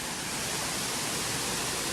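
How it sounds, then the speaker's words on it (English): Namuang Waterfall on Koh Samui pours in a constant, dense rush of broadband water noise, steady and moderately loud throughout. "So let's have a look on the waterfall."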